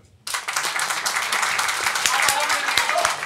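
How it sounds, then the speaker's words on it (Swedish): Audience applause at a live Swedish podcast recording, starting abruptly after a brief silence and continuing as steady, dense clapping from a crowd of listeners. "Applådera."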